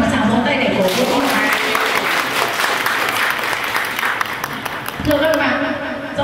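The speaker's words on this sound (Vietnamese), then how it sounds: "Xin các bạn cho một tràng vỗ tay để cổ vũ." Guests at a class reunion marking 38 years since graduation break into sustained, full applause, dense clapping that holds steady before a voice starts speaking over the fading claps near the end.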